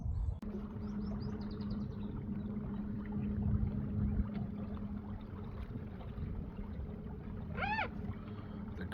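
Boat running on an electric motor against a strong river current, giving a steady low hum and water wash throughout, with a few bird chirps and one clear call near the end.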